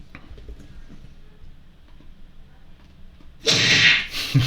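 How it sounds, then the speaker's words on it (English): Hit sound effect from a Flappy Bird clone game built in Python with Pygame, a short loud noisy smack bursting out near the end over a low murmuring background. "Let's see what the hit sound should be."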